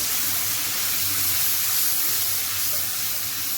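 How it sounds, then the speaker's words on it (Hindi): Water splashes into tomato and onion masala frying in a pan, setting off a steady, even sizzle and hiss that holds for the whole few seconds without any talking. "यहाँ मैं इसमें डाल दूँगी थोड़ा सा पानी।"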